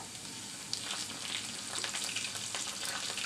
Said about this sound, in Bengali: এটা একটু ভেজে নিচ্ছি বেরস্তার সাথে